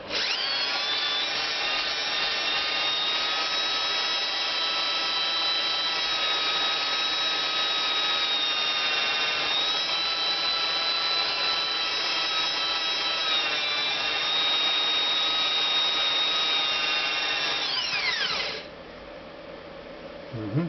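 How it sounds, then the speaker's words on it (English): A power drill fitted with a cloth whines at a high, steady pitch for nearly twenty seconds while polishing a Honda CX500 engine part, then winds down abruptly near the end, close and continuous. "I use a cloth, a drilling machine."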